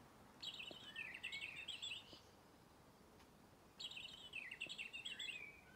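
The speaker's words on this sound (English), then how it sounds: "And a robin." Two bright, twittering phrases of robin song, each about two seconds long with a pause between, clear over a quiet hiss of background noise.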